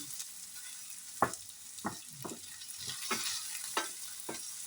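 Small diced carrots and potatoes frying in a pan for a guisado. A steady hiss of sizzling oil runs throughout, and a spatula scrapes and stirs in several distinct strokes at irregular intervals, close up, with no talk.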